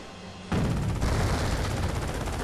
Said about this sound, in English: Here comes another volley from the Panzer Shreks.